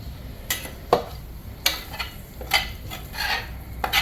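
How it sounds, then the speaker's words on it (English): Ground beef going into a pan of leftover beans for cowboy chuckwagon beans, heard as a series of close, separate scrapes and soft thuds spaced through the clip with a faint sizzle underneath. "So I'm going to put the ground beef in here."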